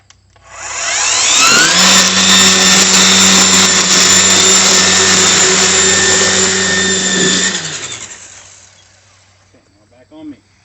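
A string trimmer edges grass along an alley, spinning up to a loud steady whine held for about seven seconds, then winding down, with a brief voice at the end.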